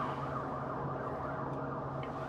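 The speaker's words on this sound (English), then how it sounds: "Police cars have been going by." A police car siren wails steadily and loudly near a stopped Amtrak Empire Builder train, with no speech and a constant hum of background noise.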